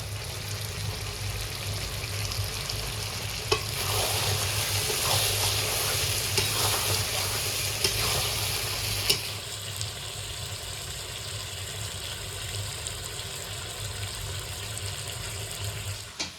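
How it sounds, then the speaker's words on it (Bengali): Half-browned meat fries and sizzles loudly in oil as it is stirred in a pan, with a clatter partway through as tomatoes go in and the frying carries on steadily. "মাংসটা অর্ধেক কষে নিয়েছি এখন টমেটোগুলো দিয়ে দেবো"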